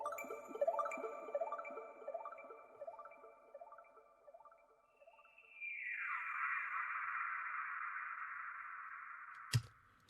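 Two accent samples from the Bliss kit for a loop: first a run of bright, plucky, dripping tones descending in steady repeats, then a sustained airy swell that sweeps downward and ends in a sharp hit.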